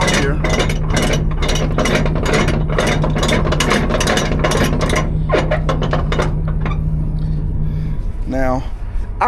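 Ratchet straps being cranked tight over a metal load on a truck trailer: rapid rhythmic clicking bursts, loud and close, with a steady engine hum underneath and someone talking near the end.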